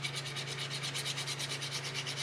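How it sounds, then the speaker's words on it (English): Hand sanding across the end grain of a wooden cutting board: a steady, close rhythmic scrubbing of abrasive on wood, repeating in even strokes without pause and with no talking. "It's just hand sanding, but you know, doing a better job than the orbital on these ends"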